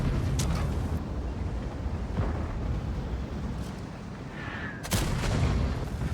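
Artillery shells crash down around a tank in a World of Tanks–style battle, heavy booming impacts with a sharp loud blast near the end amid rumbling noise.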